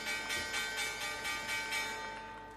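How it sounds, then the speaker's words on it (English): A stock market opening bell rings in rapid, evenly spaced strokes, about eight clangs in a steady rhythm that fade slightly toward the end, with no talking. "There's the opening bell."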